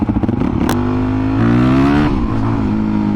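Suzuki DRZ400 motorcycle engine revving close by, the note climbing and swelling in pitch, dipping, then holding a strong steady tone, loud and alone.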